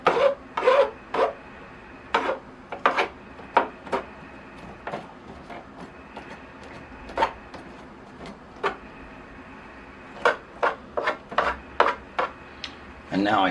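Scratchy, rasping strokes comb through the soil and roots of a field maple bonsai during repotting, short close scrapes coming in irregular bursts with quiet gaps between them.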